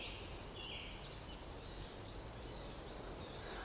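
Birds chirp faintly and sporadically outdoors on a quiet countryside walk, high calls scattered over a steady wash of wind and background noise.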